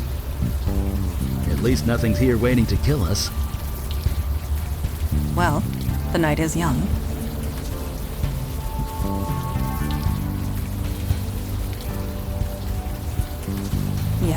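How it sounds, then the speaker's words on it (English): Steady rain falls without pause in the video game Unavowed, set at night in New York's East Village, a dense continuous hiss under tonal music and voices talking throughout. "Still raining."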